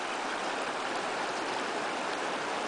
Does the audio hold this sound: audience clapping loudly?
no